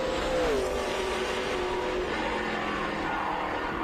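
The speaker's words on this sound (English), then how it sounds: "here is Ricky, I think, in the other AMG. There he is." A Mercedes-AMG GT3 race car drives on the Road America circuit, its engine a loud, steady roar with one audible pitch shift as it changes gear.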